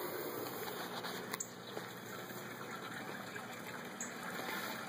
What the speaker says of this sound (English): This is where we have our sump tank where all of our water gets mixed and pumped up to the plants and back to the fish tank.